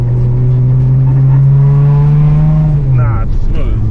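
A 245 Hemi engine with an Edelbrock carburettor drones loudly from inside the car, its pitch rising steadily under acceleration before dropping sharply near the end, with someone talking over it.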